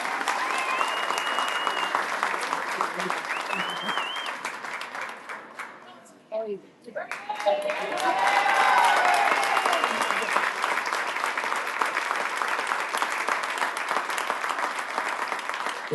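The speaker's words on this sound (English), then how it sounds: "All right, so we're gonna give Charlie a round of applause." An audience at a Nashville SC Unified Team celebration breaks into sustained applause, dense clapping that runs steadily for the whole stretch with a brief dip midway and people talking over it.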